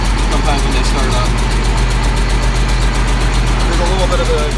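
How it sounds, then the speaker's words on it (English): A four-wheel drive tractor's engine idles steadily with a loud, even low rumble and a faint repetitive ticking from a small exhaust manifold leak, while a person talks over it. "Got a little bit of an exhaust click on the manifold"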